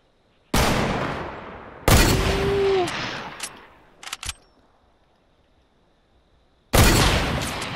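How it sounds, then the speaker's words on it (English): Gunfire in the Fortnite Battle Royale game, Wild West mode: loud sharp shot bursts at the start, middle and end, with a few smaller quick reports between and near-silent gaps, no talk. "Oh, we both shot."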